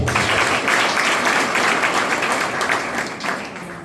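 Audience at a school open house claps for a staff member being introduced, a short burst of dense, lively clapping that tapers slightly toward the end.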